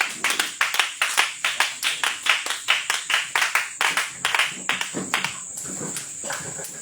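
Church congregation clapping to acclaim the Lord at a revival meeting in Bouaflé, Côte d'Ivoire: rapid, loud, rhythmic claps in a steady beat, slowing and loosening toward the end.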